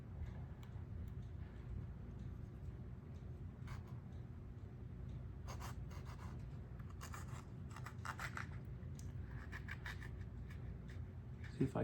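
Knife work on T-Rex yellow and Fatali peppers, with soft scraping and short slicing bursts coming in uneven clusters, close by, over a steady low hum.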